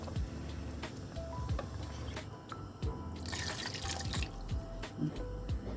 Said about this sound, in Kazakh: Енді осыған су құямыз.